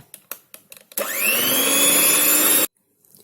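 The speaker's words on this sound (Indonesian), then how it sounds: "Kemudian mixer sebentar asal tercampur saja ya dengan kecepatan paling rendah." An electric mixer on its lowest speed blends grated cheddar into cheese pineapple-tart dough. After a few light clicks it whirs in one loud, steady, close burst for nearly two seconds, then cuts off abruptly. No one talks.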